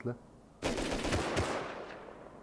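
Video game gunfire: a rapid automatic burst crackles for about two seconds, loud and close, then tails off.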